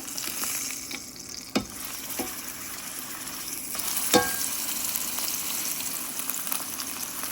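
Sous vide steak fillets sear in a hot pan, giving a steady loud sizzle close by, punctuated by a couple of sharp clacks as the meat or tongs shift, with no talking.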